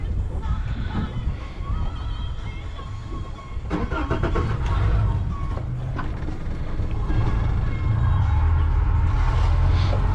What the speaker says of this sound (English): It's not that far away, I'm just gonna use one engine.